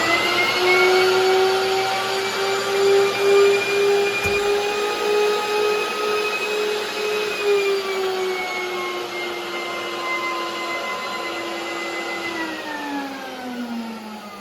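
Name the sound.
vacuum machine running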